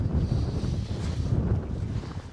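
Wind buffeting on a mountain plateau at Kalhovd, Norway, during a ride on a Husqvarna Norden 901 motorcycle, a steady low rumble roaring across the microphone with no talk.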